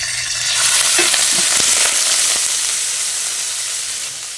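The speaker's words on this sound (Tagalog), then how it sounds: "niluto ko muna sa mantika yung ground pork" Ground pork frying in cooking oil, a steady dense sizzle close up with faint stirring scrapes, continuous and fairly loud throughout.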